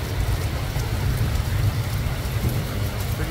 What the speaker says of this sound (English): this is the rain that just didn't stop